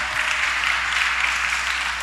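A church congregation claps together, a dense, steady wash of applause held at an even level with no voices over it.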